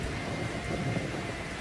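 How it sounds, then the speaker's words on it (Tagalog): Heavy rain with thunder pours down steadily as a dense, continuous broadband wash, with low rumbling underneath and no voices. "Pakalakas naman ang ulan."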